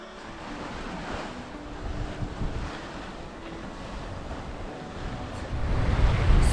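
Wind and waves while sailing off Fiji, a steady broadband wash of surf with wind buffeting the microphone, swelling louder toward the end with no voices.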